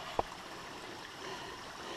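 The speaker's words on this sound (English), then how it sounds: "Little mountain stream with a little bridge that you can go over." A small mountain stream runs beneath a little footbridge on Black Rock Mountain, a faint, steady rushing wash with one brief knock near the start and no voices.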